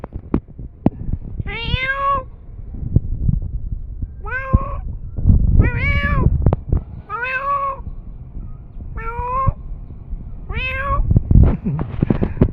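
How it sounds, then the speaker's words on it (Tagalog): A street cat outdoors meows six times in short, rising-and-falling calls spaced a second or two apart, fairly close and clear over scattered background knocks and rustling. "yung pusa natin dyan sa kalye, sa labas"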